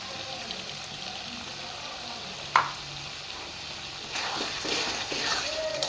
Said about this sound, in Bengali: এখানে মশলাটা একটু ভালোভাবে কষে এসছে, এর মধ্যে আমি টমেটোর পেস্টটা দিয়ে দিচ্ছি।